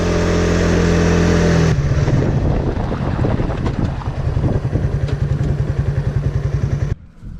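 A 2003 Suzuki FX125 small DOHC five-speed motorcycle being ridden near Bowentown, its engine a loud steady drone under heavy wind buffeting, shifting partway through to a rapid pulsing beat that cuts off abruptly near the end.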